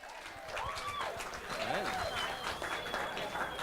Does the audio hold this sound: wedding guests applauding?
yes